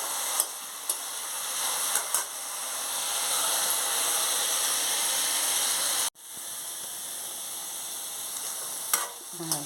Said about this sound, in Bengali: কিশমিশগুলো দিয়ে দেবো, এলাচ দিয়ে দেবো, বাদাম, কিশমিশ সব দিয়ে ভেজে নেব